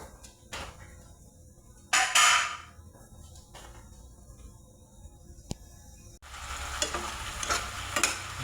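Cabbage cooks in a pan with a soft sizzle under scattered spatula scrapes and stirring clatter, one sharp clank midway, and a fuller, louder hiss of frying toward the end.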